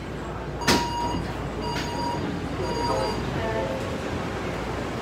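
Taipei Metro train running from Main Station toward Raohe Night Market, a steady rumbling interior drone with a few brief tonal chimes and clunks over it, faint voices in the carriage.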